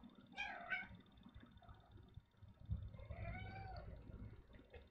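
A cat meows twice close by, a short clear cry followed by a longer, softer wavering one, over quiet room noise.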